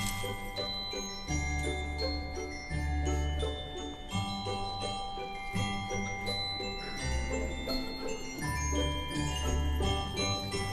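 Bright bell-like glockenspiel tones ring over a rhythmic musical backing, playing a repeating tinkling melody at moderate volume.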